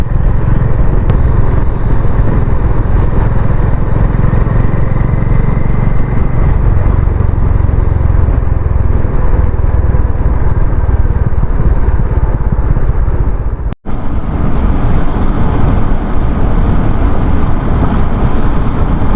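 A KTM Adventure motorcycle rides a rough road, its engine a loud, steady, close drone mixed with wind rush. There is one brief cutout near the end.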